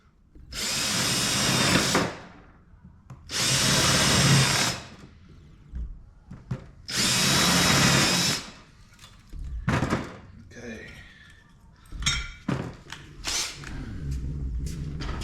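A handheld power drill runs in three long, loud bursts of about two seconds each, separated by pauses, followed by scattered clatter, knocks and shop handling noises with a voice speaking in between.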